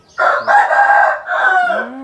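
A rooster crows loudly and close by, one full drawn-out crow with a rising start and a falling tail, alone with no talk, at a rural home where a few large chickens are kept.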